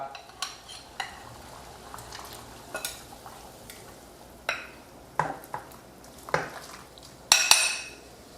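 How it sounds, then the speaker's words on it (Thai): Pork ribs going into a pot of hot herb broth, heard as a series of faint clinks, knocks and light splashes spaced irregularly over a quiet background. "เดี๋ยวเราจะใส่ซี่โครงลงไป"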